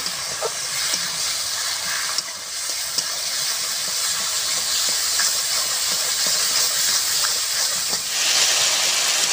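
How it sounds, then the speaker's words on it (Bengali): Dried chilli, turmeric powder and salt spice paste frying in a pan, a steady loud hiss and sizzle running throughout with faint scraping stirs, no voices. "শুকনো লঙ্কা, হলুদ গুঁড়ো, স্বাদ মতো লবণ সুন্দর করে কষে নেব।"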